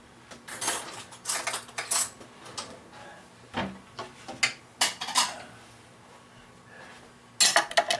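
Metal spoons and cutlery clatter and clink in a kitchen, with a series of scattered taps and jangles, a short pause, then a final louder rattle.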